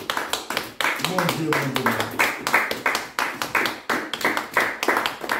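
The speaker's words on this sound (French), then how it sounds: "Oh, acclamons pour Jésus." Congregation at a French-language church service clapping and cheering for Jesus, a steady burst of rhythmic applause over the full span, with a sung or spoken voice running underneath.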